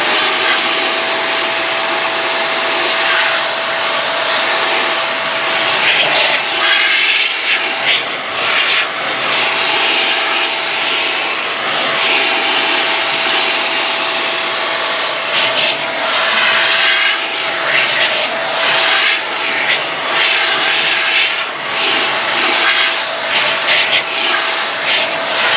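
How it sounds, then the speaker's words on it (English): A handheld air blower roars steadily and loudly at close range while it blasts excess tire dressing out of a car tire's grooves during auto detailing, a continuous whooshing stream of air for the whole stretch. "So I can just take my blower and simply blow out that excess dressing in the tire grooves."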